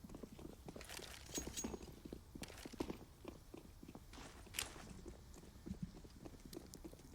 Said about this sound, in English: He knows it's likely this B hit with all these footsteps coming in.